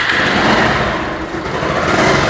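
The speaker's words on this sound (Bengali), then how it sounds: "তো বাইকটা স্টার্ট করছি।" A Bajaj Pulsar 150 double-disc motorcycle engine runs close by as a steady, loud, buzzing drone with no break, no voices and no clear start-up burst.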